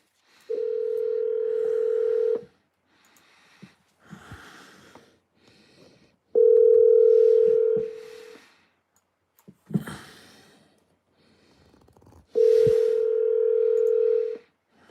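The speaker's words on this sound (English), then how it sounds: "Alexa, call Double K." An outgoing phone call placed through an Alexa smart speaker rings in three long, steady electronic ring tones, with faint rustles and breathing in the gaps between them.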